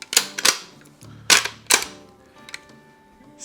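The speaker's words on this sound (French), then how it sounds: "bolt action." Bolt action being worked on a 20-gauge hunting shotgun with a three-shell magazine: a series of sharp, close metallic clacks and clicks in quick pairs, with faint rattles between, no speech.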